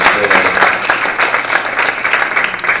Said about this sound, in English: we owe all of the organizers and presenters a big round of applause